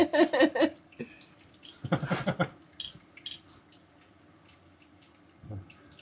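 Liquid splashes and trickles out while a 400 engine in a Power Wagon is drained, in short bursts of pouring and dripping that fade to faint trickles, with a low voice in the background.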